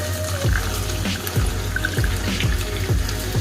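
Water is poured into a pan of beef stroganoff, making a loud, continuous splashing gurgle up close with rhythmic glugging pulses as it flows.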